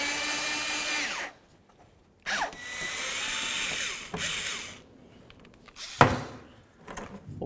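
Power tool whirring in bursts as 5.5 mm bolts come out during a radiator replacement on a 2007–2014 Ford Edge: three long runs of loud, close drilling with pauses between, then a sharp clunk near the end.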